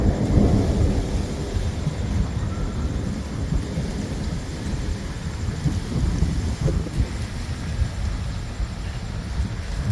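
Heavy monsoon thunderstorm at a yurt camp in Batakundi, Pakistan, with dense, steady rain roar and low rumbling thunder, loudest at the start and continuing throughout without talk.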